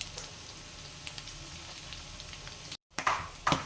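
Garlic added to browned pork sizzles in a pan during a pork and eggplant stir fry, a steady crackling fry that breaks briefly and then returns with louder bursts near the end.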